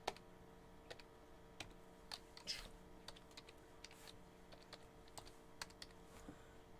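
Quiet, irregular keystrokes tap on a computer keyboard at close range, with scattered clicks over a soft room hum.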